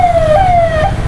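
An ambulance siren wails on a road near the India–Nepal border, a loud, close, steady tone sliding slowly downward, with road noise beneath and no talking.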